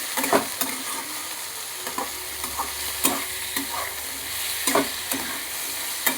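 Bottle gourd chicken soup stirred in a pan after salt goes in, a low simmering sizzle broken by regular spoon scrapes and clinks against the pan, close and fairly loud, with no talking.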